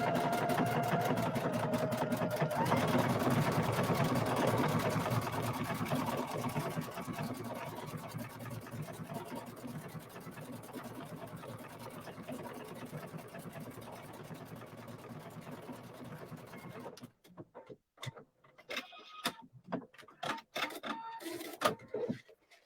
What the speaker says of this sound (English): It helps you to stitch 2 lines of stitches that are parallel to each other with the grid.